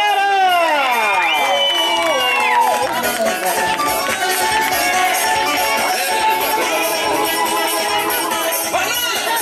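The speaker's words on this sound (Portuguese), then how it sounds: "merece uma salva de palmas" Guests at a family birthday party in São Paulo's east side cheer and shout together. The loud, continuous crowd noise is full of high whoops and children's voices.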